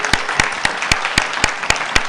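Slow, rhythmic clapping at a French television studio event, about eight sharp, evenly spaced claps in a row, close and loud, like a small group clapping in unison.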